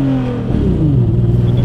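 A Mitsubishi FTO car engine revs and accelerates on a pre-race test run, a loud close rising drone that climbs in pitch over a short burst.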